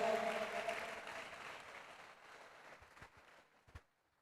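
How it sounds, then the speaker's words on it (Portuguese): Church congregation applauding during a celebration service, a broad wash of clapping that is loud at first and gradually thins out to a few scattered claps. "aplauda o Senhor bem forte"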